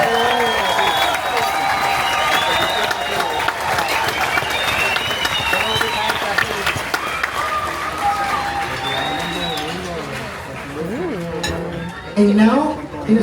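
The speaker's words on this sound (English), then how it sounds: "please give it a big applause to the entire F&B team, waiters, assistant waiters, and freelance team" Applause from a cruise ship dining-room audience for the food and beverage crew of waiters, assistant waiters and freelance staff, loud dense clapping and crowd noise that fills the room and runs throughout, with voices calling out over it.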